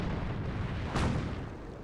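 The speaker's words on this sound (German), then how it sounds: "Mine ausgelöst." A landmine detonates in the Company of Heroes strategy video game, giving a short, dull, rumbling blast over constant low battle noise, loud and close without any following debris sounds.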